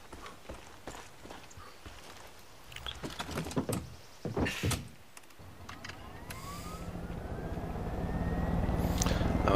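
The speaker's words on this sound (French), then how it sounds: "Donc là, je vais prendre un hélicoptère." Helicopter in Far Cry 5 powers up after a few footsteps and thuds, its rotor and engine roar rising steadily louder and nearer to the end.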